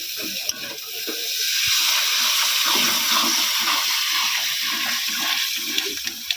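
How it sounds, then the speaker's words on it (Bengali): Water poured into a pot of ghugni cooking in a village kitchen makes a rushing splash and hiss that swells and holds steady, with a few small knocks near the end. "এরপর আমি ঘুগনির জন্য অল্প পরিমাণে জল দেবো"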